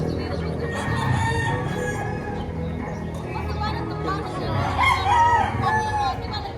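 Gamefowl roosters of Gilmore and Hatch Gray lines crow repeatedly at close range in a busy yard, their calls overlapping with talk and background chatter.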